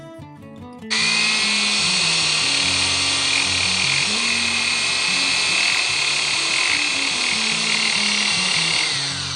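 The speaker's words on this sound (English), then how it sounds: "When we turn on the grinder and I adjust this till it just touches" An inexpensive electric chain sharpener's grinder spins up after a brief click and runs steadily as a loud, continuous high whine, with a rough intermittent grinding texture as its wheel touches a saw-chain tooth.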